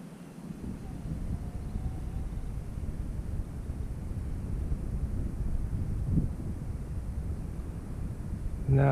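Steady wind rushing across the microphone at an RC model airfield, a continuous broadband roar with slight swells and a sharp gust at the end.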